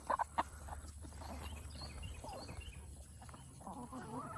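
Several chickens cluck and murmur nearby, with a few sharp pecking taps early on over a steady low background hum.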